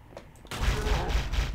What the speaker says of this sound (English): It is the true Halo 1 pistol.